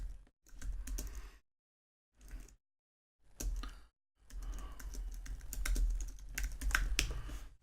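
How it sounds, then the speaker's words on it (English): Quick bursts of typing on a computer keyboard, close and clear, with short pauses between runs of keystrokes and no talking. "I'll just type in a quick description here"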